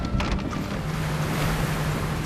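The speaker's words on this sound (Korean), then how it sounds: "전어떼를 발견한 어부가 다급히 그물을 바다로 던지는데요." A fishing net pays out fast from a gizzard shad fishing boat into the West Sea, with a continuous rushing roar of wind, water and engine and a steady low hum.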